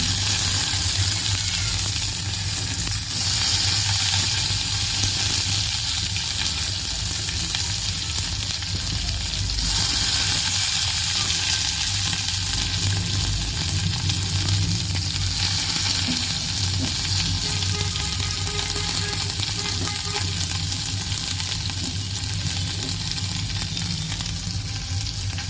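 Turmeric frying in a pan gives off a steady, loud sizzle that continues without a break, with faint stirring over it and no voices.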